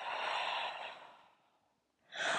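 Long audible breath out during a stretching session with a yoga brick, steady airy rush fading to near silence, followed by a fresh breath starting at the end.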